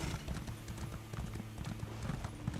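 Rapid rhythmic hoofbeats of a horse at a gallop in the video game The Elder Scrolls Online, steady and close, with a faint background hum.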